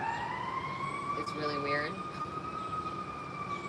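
An emergency vehicle siren wails steadily in the distance, its tone gliding up and down, while a person speaks briefly over it.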